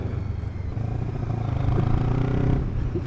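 An LXR380 motorcycle rides along, its engine a steady close rumbling drone with a rattly mechanical edge that swells slightly mid-ride, no talking over it.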